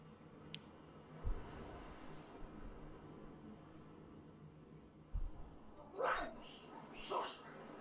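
A dog in a video game whines twice near the end, short and faint over steady background hiss, with a couple of dull thumps earlier.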